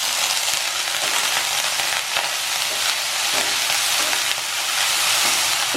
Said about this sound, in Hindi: हल्का सा भूनने के बाद मैं इसमें डाल रही हूँ ये ब्रोकली